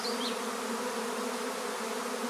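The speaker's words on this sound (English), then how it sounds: "the swarm moving in, it's not subtle" A honey bee swarm moving into a hive in May, a steady dense buzzing hum from many wings that holds continuous and fairly loud throughout, with no voices.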